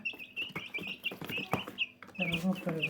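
Hens clucking close by, with repeated short clucks and chirpy calls in a steady rhythm that rises at the end, while a person talks over them.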